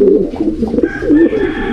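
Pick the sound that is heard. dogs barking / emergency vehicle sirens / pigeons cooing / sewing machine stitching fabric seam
pigeons cooing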